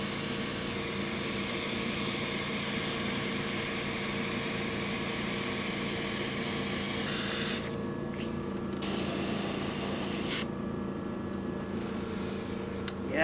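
An airbrush sprays thinned, fairly old paint onto a hill on a painted backdrop, giving a steady close hiss that cuts off briefly twice and then resumes, with no talk over it.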